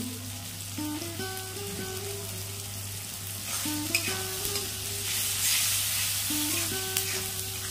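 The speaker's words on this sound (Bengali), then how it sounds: "টমেটোটা খুব ভালোভাবে ভেজে নিয়েছি।" Tomato with turmeric and salt fries in a pan with a steady close sizzle that swells partway through, heard beneath quiet background music, with a few faint stirring taps and no talk.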